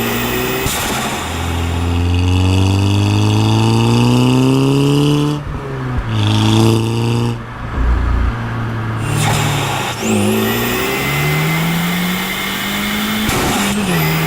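A Volkswagen GTI's 2-liter engine revving while driving, loud and close, its tone climbing through the gears with pitch drops at each shift and a brief lull midway before pulling again.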